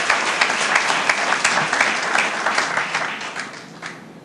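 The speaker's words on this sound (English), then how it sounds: "Can we give her a round of applause for her work?" Loud, sustained applause from a crowd at a school district event in Prince George's County, thick and steady before easing off slightly toward the end.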